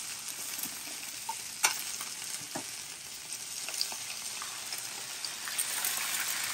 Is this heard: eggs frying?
yes